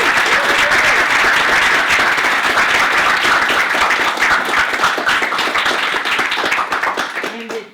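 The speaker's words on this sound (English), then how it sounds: "a hefty round of applause for those beautiful talks" A hefty, sustained round of applause from an audience after academic talks, steady and loud for several seconds before tapering off at the very end.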